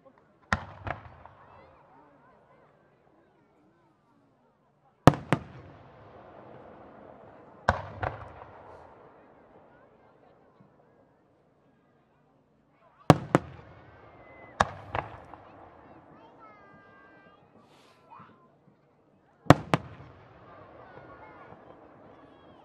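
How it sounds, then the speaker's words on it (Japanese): Japanese yukiarikusa fireworks with silver leaf-like tails, combining peony, silver chrysanthemum and core effects, burst in several loud sharp booms with echoing crackle trailing off between them, while a commentator talks. "葉っぱのような銀の尾をなす花火、私どもでは雪あり草という表現をしております"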